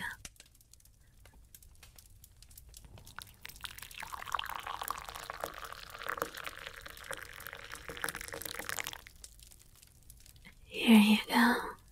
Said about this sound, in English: Let me pour you a cup.